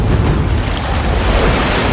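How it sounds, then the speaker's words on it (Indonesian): A bathroom water tap turned on in a film, giving a steady, loud rushing hiss of running water with no breaks. "Louis masuk ke kamar mandi dan menyalakan keran"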